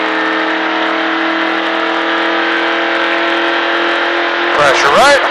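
Steady, loud engine drone of a NASCAR race car at the Richard Petty driving experience, holding a strong harmonic tone throughout, with a rising rev surge near the end as it accelerates out of a turn.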